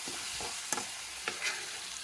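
Gravy sautés in a pan for an elephant foot yam chukka: a soft, quiet sizzle under a few light scrapes and taps of a spoon stirring.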